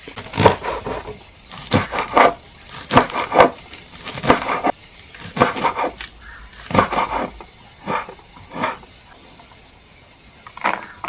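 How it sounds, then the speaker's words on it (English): Knife chopping onions and tomatoes on a cutting board, a loud, close series of irregular crisp chops coming in quick bursts with brief pauses between them, and no talking. "I'll now chop my vegetables"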